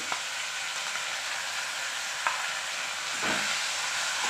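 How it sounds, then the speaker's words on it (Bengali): A spice paste of onion, ginger, garlic and tomato with salt and turmeric fries in a pan, giving a continuous close sizzle with a few scraping stirs along the way. "আমি কষিয়ে নেবো ভালো করে"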